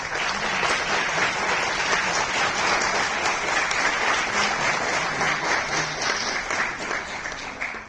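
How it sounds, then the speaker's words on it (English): An audience at a women's day celebration at a government college applauds, continuous even clapping from many hands that carries on steadily for several seconds with no speech over it. "A big round of applause"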